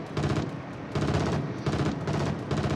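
Warship video-game naval gunfire comes as three loud, rapid bursts of firing, each lasting about half a second and separated by short gaps.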